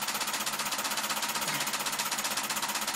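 A four-piston solenoid engine running steadily, a fast, even buzzing clatter of rapid pulses, close and continuous with no voices.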